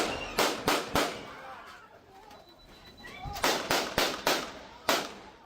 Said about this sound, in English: In the video, police appear to fire 9 shots.